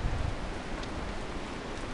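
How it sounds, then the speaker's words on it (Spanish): Heavy rain pours steadily outdoors in the highlands, a continuous close hiss of drops on surfaces with no other sound standing out. "No puedo filmar mucho porque está lloviendo mucho."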